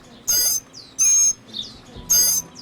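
A mockingbird calling at the Tucson Wildlife Center gives three loud, bright bursts of harmonic, chattering notes at an even pace, with short quiet gaps between them.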